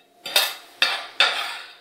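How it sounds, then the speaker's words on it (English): A spoon works through chimichurri in a bowl after fresh herbs go in, making three sharp scraping clinks, each trailing off before the next. "I'm going to add my herbs, mix it up again."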